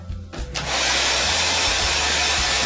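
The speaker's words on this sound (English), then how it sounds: "I'm going to reach over here and get my hairdryer." A handheld hairdryer blows onto wet paint on a magnolia painting, switching on after a brief rustle and then roaring as a steady, loud, close whoosh.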